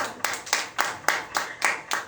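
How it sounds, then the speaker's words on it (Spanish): A church congregation claps hands together in unison, a steady rhythm of about four sharp claps per second, close and bright, with no voices over it. "Démosle fuertes palmas al Señor."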